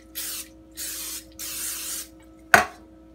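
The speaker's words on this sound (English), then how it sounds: "And now I'm going to spray my pans" Three hissing bursts of aerosol cooking spray onto cake pans, each about half a second long with short pauses between, followed by a sharp clatter of a pan being set down.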